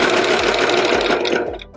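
A serger overlocking a fabric seam edge, running in a fast, steady whir of needle and looper strokes, loud and close, slowing at the end.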